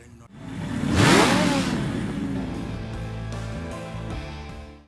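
Motorcycle engine revving up loud and close, surging to a peak with a whooshing pass and then holding a steady, fading drone, with a few faint clicks and no talk.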